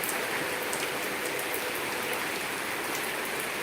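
Steady rain pouring outdoors where a child is bathing, a dense even hiss of drops striking surfaces, continuous and close with no voices.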